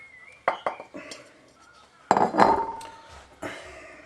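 Metal clatter and scraping in a pan as curry powder is stirred into a Chinese curry sauce, with a few sharp knocks near the start and a louder burst of clanking midway.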